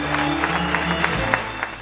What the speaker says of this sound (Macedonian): Громогласен аплауз на публиката ја поздрави одличната актерска игра.